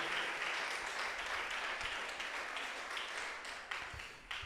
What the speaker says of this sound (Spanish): Dele la gloria y aplausos a Él con todo el corazón, al Señor Jesucristo